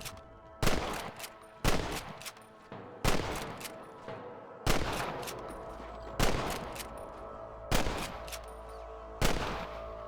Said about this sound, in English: If you just open fire from back here, they can't shoot back.